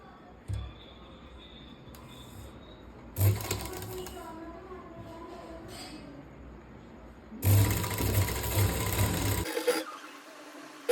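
A sewing machine stitches a lace border onto a kurti in two short bursts of rapid mechanical whirring close by, separated by quieter handling sounds and brief pauses.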